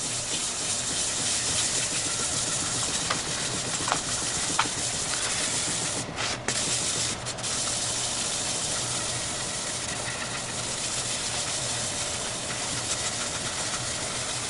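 Sandpaper scrubs steadily across dyed wildwood maple on a workbench, a continuous broadband abrasive hiss with a few brief bumps and catches partway through, fairly close and unbroken by talk.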